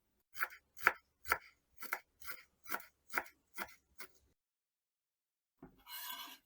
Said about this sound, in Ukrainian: До сирної начинки ще покришу кріп